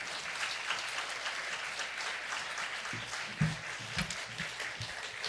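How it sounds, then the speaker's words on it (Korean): A church congregation gives a pastor steady, fairly faint applause as he steps onto the stage at a university chapel service, with a few sharper claps near the end. "목사님 나오실 때 박수로 환영하겠습니다."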